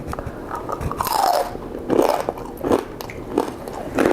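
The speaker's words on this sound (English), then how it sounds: "Okay, peep the crunch." Crunchy air-fried pork belly bitten and chewed up close, with a few loud, crackly crunches in an uneven rhythm over about four seconds.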